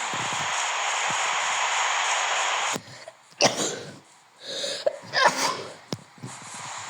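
Over a steady hiss of background noise, a person gives a sharp close sneeze, followed by a few smaller sniffs and throat noises.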